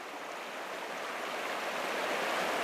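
Upper Mersey river water flowing steadily past, a dense, even rush with no breaks, fairly close and moderately loud, with no voices.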